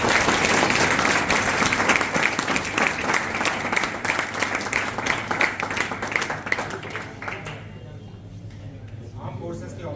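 Audience applause at a talk, loud, dense clapping at the start that thins out and fades over about ten seconds, with a voice speaking faintly as it tails off.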